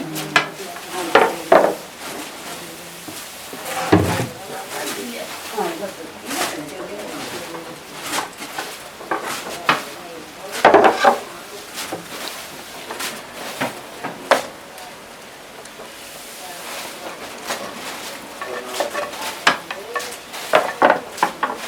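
Uzhunnada, fried lentil doughnuts, cooking in hot oil in a pan, a low bubbling sizzle with intermittent stirring clatters, while people talk over it and birds coo nearby.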